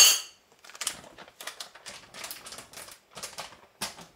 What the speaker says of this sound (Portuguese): acabei de picar 5 dentes de alho, o mais picado possível